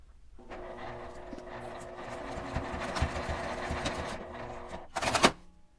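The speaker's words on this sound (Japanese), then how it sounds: "このファスナーの開いた方は縫う時にずれやすいので真ん中に合わせてここを仮縫いしておきます。" A sewing machine runs steadily while basting a nylon pouch zipper, a close, even whirring stitch that starts, holds for several seconds, then ends with a brief louder burst as the work stops.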